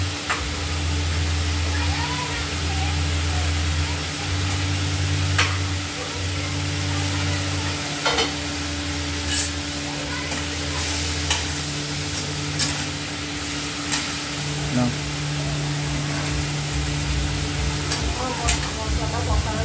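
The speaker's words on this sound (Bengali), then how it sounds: "ভেজে রাখা আলুগুলো আমি দিয়ে দেবো" Fried potatoes go into sizzling spices for a rohu fish curry, giving a constant, close frying hiss with occasional stirring clinks from a pan throughout.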